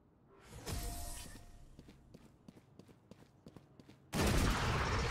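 Gunfire in the Valorant shooter game: a short burst of shots early on, then soft, quick footstep-like taps, then a sudden loud burst of shooting at the end. No voices are heard.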